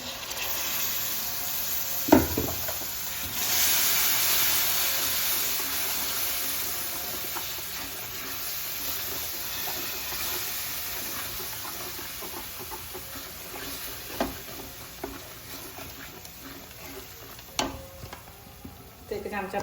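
Dry spices roast in a pan before tomato puree goes in, giving a soft, steady sizzle broken by a few sharp utensil knocks and scrapes against the pan.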